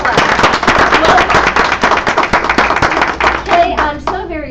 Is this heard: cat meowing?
no